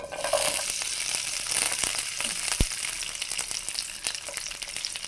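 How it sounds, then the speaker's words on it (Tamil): Garlic cloves frying in a little ghee in a pan, a steady close sizzle with soft crackles and a few sharp pops from mustard seeds, continuous throughout with no talking. "அதில் கொஞ்சமாக நெய் விட்டு அதில் இந்த பூண்டை போட்டு"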